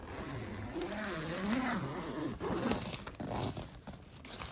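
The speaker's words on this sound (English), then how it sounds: "So you can unzip this." A backpacking tent zipper on a Coleman Peak 1 tent is pulled open in several long rasping strokes with short pauses, close to the microphone.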